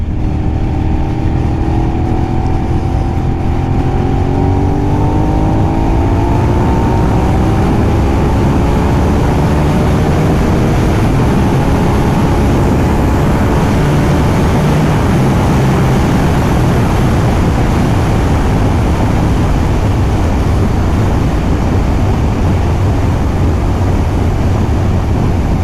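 Motorcycle ride through Normandy near Barentin: a steady, loud engine drone with wind rush throughout, pitch rising and easing as the bike accelerates early on, with no talking.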